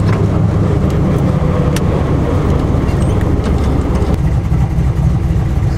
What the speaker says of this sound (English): Man, this car sounds mean.